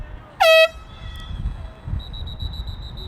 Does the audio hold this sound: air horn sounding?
yes